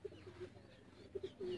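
Champion Sialkoti pigeons coo faintly in short soft bursts, a few low throaty calls spaced across the moment and ending in a longer drawn-out coo.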